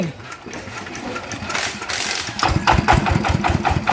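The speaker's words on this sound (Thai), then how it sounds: "เครื่องยันมาจากสุพรรณบ้างนะครับดูที่เสียงจะเป็นยังไงนะครับ" A Yanmar diesel engine chugging steadily nearby, its knocking rhythm growing stronger and more distinct after a few seconds.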